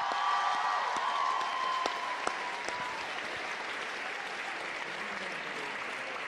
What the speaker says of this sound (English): Come on, let me get a round of applause for that.